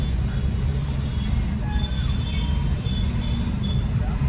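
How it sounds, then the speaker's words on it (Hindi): Heavy morning rush-hour traffic in Pondicherry makes a dense, continuous low rumble of engines and road noise with faint horn tones, and a voice talks over it. "But look at this morning heavy rush traffic here in Pondicherry."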